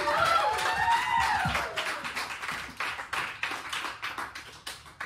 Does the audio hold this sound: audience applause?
yes